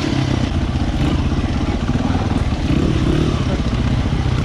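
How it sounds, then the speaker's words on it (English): A Honda XR100R dirt bike engine drones loudly and continuously as the rider slides through mud and puddles on a slick trail, a close, rough buzzing with no talk. "Oh, it's like drifting on the dirt bike."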